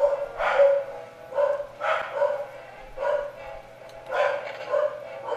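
Corgis let out bursts of close, repeated barking in an uneven rhythm, with voices talking underneath.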